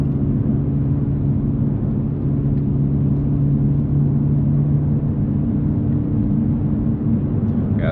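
Honda Civic Type R FL5 cruising, a steady loud low engine and road drone with tyre hum heard from inside the car, unbroken throughout.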